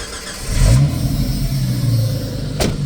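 Renix-era Jeep XJ engine cranks and catches, then settles into a steady, close idle with a low mid-range hum and a brief blip near the end; no talk.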